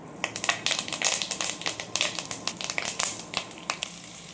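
Curry leaves hit hot cold-pressed groundnut oil in a kadai and set off a dense, close burst of sharp pops and crackles that carries on without a pause; no talking.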